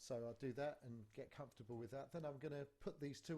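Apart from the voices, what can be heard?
None of the usual background noises is heard.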